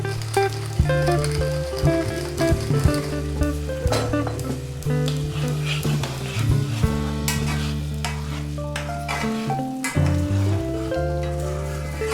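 Porcini mushroom risotto being stirred in a pan, with steady sizzling and scraping of the spoon, while music plays throughout and no one speaks.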